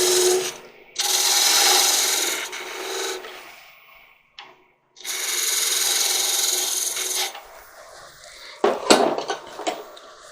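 A wood spindle is parted down on a lathe with a harsh scraping rasp that runs in long bursts, stops briefly several times and then returns with sharper, uneven cutting.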